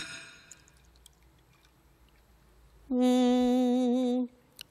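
Water is poured into a glass in a steady, bright stream lasting just over a second, close and clear after a quiet stretch, ending abruptly with a single faint drip.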